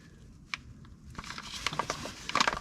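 A soft plastic pack of gear oil is squeezed into a Nissan Titan XD differential fill hole, giving faint crinkling, squelching and sputtering gurgles that build toward the end, heard close and quiet.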